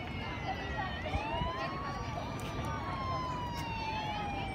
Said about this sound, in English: it's a siren of an ambulance